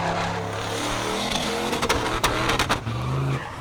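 A 1984 Ford LTD wagon with a turbocharged 5-liter engine and five-speed revving hard at a car party, loud and close, with sharp bursts and crackles near the end.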